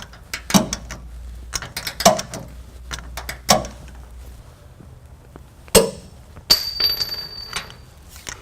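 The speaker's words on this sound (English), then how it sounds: "now we're going to go over to the passenger side and torque those." A torque wrench tightens trailer hitch bolts on a 2005 Ford F-150. Sharp metallic clicks and ratchet snaps come in separate bursts at close range, with short quiet gaps between them.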